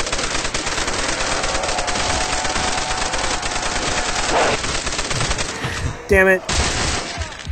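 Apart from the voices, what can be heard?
machine gun fire in Call of Duty custom zombies video game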